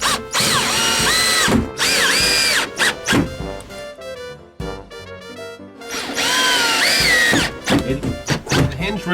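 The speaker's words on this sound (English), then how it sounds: "You want to put a pilot hole in each one of these holes." A power drill bores pilot holes for 1-inch number 8 painted screws in the hinge rail of a Larson storm door, loud close whining bursts that rise in pitch as the motor spins up, separated by brief pauses and thunks.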